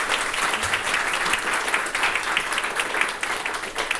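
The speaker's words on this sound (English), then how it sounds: "could I just get a round of applause again for their contribution?" A conference audience applauds speakers and fellows after a panel discussion, dense steady clapping that fills the room at close range for several seconds with no talking over it.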